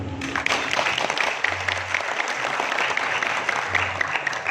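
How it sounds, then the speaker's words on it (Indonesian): Audience applause at a community youth organization gathering with a regent, steady, dense clapping across the whole stretch, fairly full and continuous without a clear rise or fade. "Tepuk tangan."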